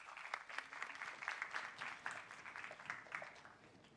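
Applause from a school TEDx event audience, a continuous faint wash of many hands clapping at a distance for several seconds.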